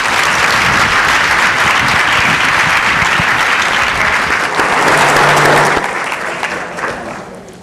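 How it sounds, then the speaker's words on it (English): Loud, sustained clapping from an audience at an education leadership lightning-talk event, a thick continuous roar of hands that thins and fades out over the final seconds. "Let's give him an applause."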